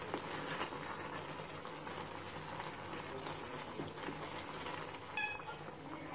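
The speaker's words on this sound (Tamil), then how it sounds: "இப்ப பாருங்க நல்லா கொதிச்சிருச்சு." White pea kurma curry bubbling in a covered pot, a steady low gurgling boil heard close, with faint kitchen noise around it.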